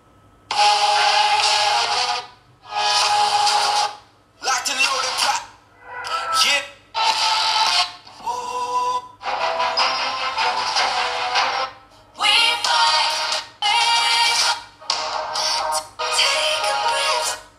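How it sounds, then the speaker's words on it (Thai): A run of TECNO POVA 5 phone ringtones previewed one after another, short bright melodic snippets separated by brief gaps, loud and close with no talk. "แล้วก็มาดูที่เสียงเรียกเข้า เสียงเรียกเข้าก็มีเพิ่มทุกคน"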